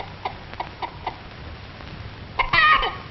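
An old hen in a 1938 film clucks in a few short soft bursts spaced through the first second or so, then gives a louder, brighter squawking cackle near the end, set against a faint hiss.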